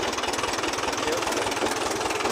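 An old 1986 Valmet tractor engine runs close by with a steady, rapid knocking diesel pulse and heavy low rumble, continuous and loud, working hard under load.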